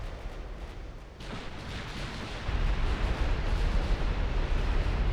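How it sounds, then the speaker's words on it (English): Heavy 16-inch naval gunfire from Norwegian warships in a 1920s dreadnought battle in Ultimate Admiral Dreadnoughts booms and rumbles continuously, swelling into a louder, deeper roar partway through; no talking. "But also now receiving fire from a lot of Norwegian ships,"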